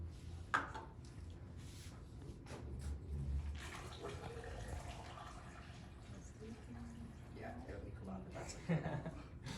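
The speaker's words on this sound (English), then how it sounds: "I'll just have you pour water in to keep it consistent." Water poured into a container during a hydrostatic paradox demonstration, an uneven splashing fill with gurgles, heard quietly under a person talking nearby.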